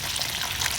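Water pours steadily into a mud hole in the soil, a continuous close rushing and splashing wash with no pauses.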